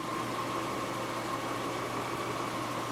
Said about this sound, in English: I'm just gonna let it idle for 15 minutes